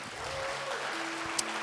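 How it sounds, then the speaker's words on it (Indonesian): A church congregation gives a steady round of applause, fairly faint and even, with a few tones from music or voices faintly underneath. "Kita kasih tepuk tangan bagi Tuhan Bapak Ibu."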